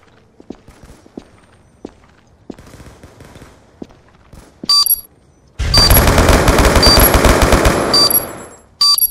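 Loud, dense burst of automatic gunfire from a combat video game, a sustained rattling stream of rapid shots lasting a few seconds, preceded by scattered single shots and footstep-like thuds.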